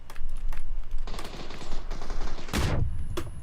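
Video game combat with a thrown grenade exploding amid bursts of gunfire, loud rapid rattling shots followed by a sharp, heavy blast near the end, no talking.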